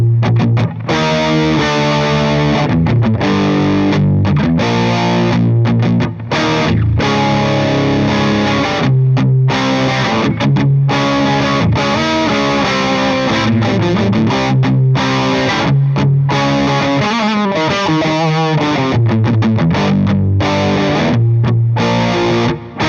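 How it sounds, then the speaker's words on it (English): Epiphone 800 electric guitar played through a Super Overdrive pedal, loud crunchy distorted chords and riffs ringing continuously with short pauses between phrases and no talking. "So this is the 800 with some drive on it, the Super Overdrive pedal."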